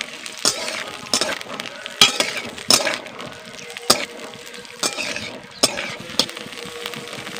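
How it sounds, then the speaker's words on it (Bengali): Green peas fry in a pan while a utensil stirs them, giving repeated scraping clinks every second or so over a soft sizzle, close and fairly loud, with no voices. "মটরশুঁটিগুলোকে আমি দিয়ে দিয়েছি, এবার ভালো করে নেড়ে নেব।"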